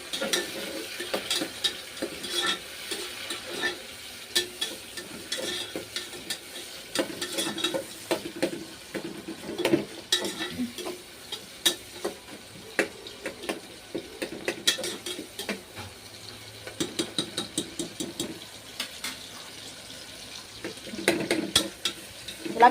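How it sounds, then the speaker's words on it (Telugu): Vegetables and tomato stir-fry in a pan for veg biryani, a continuous close sizzle broken by frequent scraping and clinking stirs against the pan, with no talking. "ఇలా కొంచెం లైట్గా వేగాలి."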